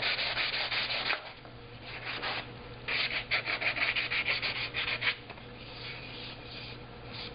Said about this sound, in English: Just sand it lightly.